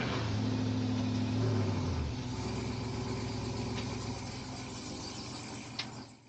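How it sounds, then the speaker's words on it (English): A stolen Dodge Ram TRX pickup starts in a Fresno driveway and drives off, its loud engine rumbling steadily close by before fading away, with a brief click near the end. "Within minutes, they were able to get inside the truck and start it."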